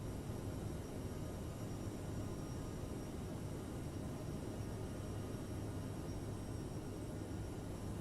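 Steady, loud jet roar of an Aerosoft CRJ-700ER regional jet climbing after takeoff in Microsoft Flight Simulator 2020, a constant broadband engine drone with no voices over it.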